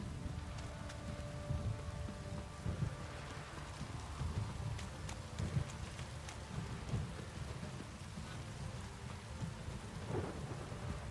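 Heavy in-game rain in The Witcher 3 pours steadily with rumbling thunder rolling underneath, a dense continuous downpour that stays loud throughout with no speech.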